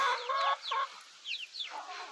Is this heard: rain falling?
no